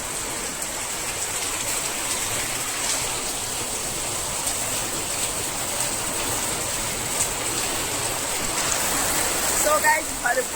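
Heavy rain falls steadily and densely, a continuous close hiss of water pouring on surfaces for the whole stretch, slightly louder near the end.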